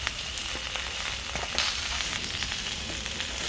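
Food fries in a pan with a dense, loud, continuous sizzle and crackle, punctuated by brief sharp pops and stirring scrapes, close by with no talking.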